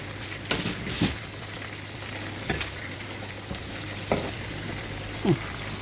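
Chicken frying in a pan for chicken fry, a low steady sizzle with occasional sharper clicks and scrapes of stirring, close and fairly quiet, with no voices.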